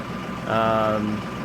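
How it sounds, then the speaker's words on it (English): A diesel tractor engine idles while warming up outdoors, a steady low rumble that swells briefly in the middle, heard behind a person talking. "You can probably hear the sweet sound of the diesel engine running there behind me."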